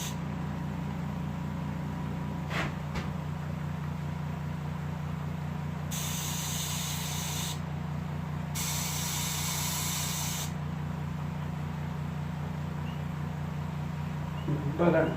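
An airbrush sprays paint onto a taxidermy base for an open-mouth bobcat mount, giving two sustained hissing bursts of a couple of seconds each over a steady low motor hum, close and fairly loud.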